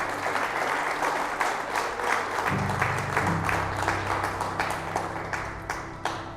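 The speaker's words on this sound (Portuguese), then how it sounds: "Você pode louvar a Deus com uma linda salva de palmas?" A church congregation claps together in praise, a full, steady round of applause with distinct close claps. A low tonal hum enters partway through, and the clapping continues until the end.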